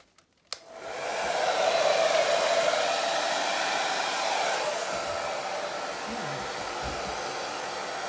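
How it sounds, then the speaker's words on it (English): A hairdryer switches on with a click and blows steadily over wet Dutch pour acrylic paint, a loud, constant airy roar that holds from start to finish. "bring in the hairdryer."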